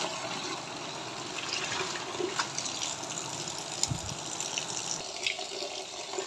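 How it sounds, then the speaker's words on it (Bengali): Malabar spinach leaves washed under running water, a steady close splashing gush with small sloshes and knocks, no talking. "তো দেখুন এখন পুঁইশাকগুলো আমি ভালোভাবে ধুয়ে নিচ্ছি।"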